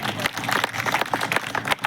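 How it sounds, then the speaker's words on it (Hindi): A crowd at a political convention in Umaria claps loudly for a former MP and minister, a thick burst of many hands with a few sharper claps standing out, close and sustained throughout. "एक बार जोरदार तालियां ज्ञान सिंह जी के लिए"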